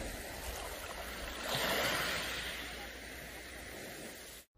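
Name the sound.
waves hitting pebbles on a beach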